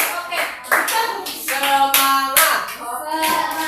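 A classroom group claps together in short rhythmic bursts, called out in counted patterns of one, two and three, with voices shouting responses between the claps, close and lively.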